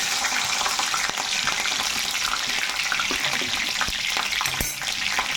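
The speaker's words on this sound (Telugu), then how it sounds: "ఇప్పుడైతే ఆయిల్ అయితే బాగా మరిగిపోయిందండి, పచ్చిమిర్చి వేసేసుకుందాం." Green chilies fry in hot, well-boiled oil with a steady, loud, hissing sizzle and a few sharp crackles and pops, heard close up with no talk.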